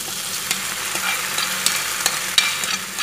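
Chicken being stirred with masala and onions in a hot pan, a continuous close sizzle with scraping spatula strokes and small clatters, no voices.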